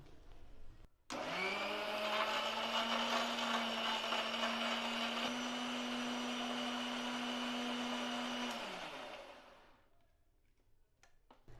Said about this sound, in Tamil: மிக்சி ஜாரில் போட்டு அடித்து எடுத்துன்னு வந்துட்டேன்